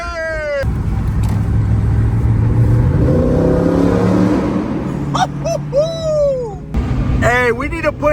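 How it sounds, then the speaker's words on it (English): A car engine with a loud aftermarket exhaust revs and roars up close, its pitch rising and falling, while people talk loudly over it. "That boy's waking up the dead right now with that bar exhaust"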